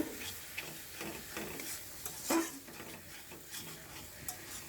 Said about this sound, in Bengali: কচু শাকটা আমি ভাজা ভাজা করে ফেলছি।